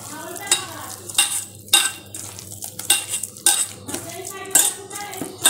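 A spoon stirs a mixture of raw banana and water in a metal bowl, making rhythmic clinking and scraping strokes roughly every half second, close and fairly loud, with no talking.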